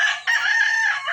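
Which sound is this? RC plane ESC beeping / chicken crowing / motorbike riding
chicken crowing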